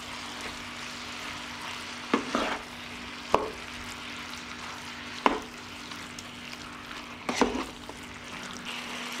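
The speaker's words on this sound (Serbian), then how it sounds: "I dok se meso prži" Meat frying in a pan with tomato paste and paprika, a steady soft sizzle broken by four sharp stirring scrapes, with no talking.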